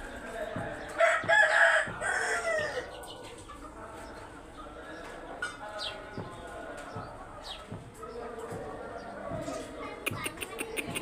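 A large Pahari breed rooster lets out one loud, close crow early on, followed by softer clucks and background fowl noise while someone talks over the scene.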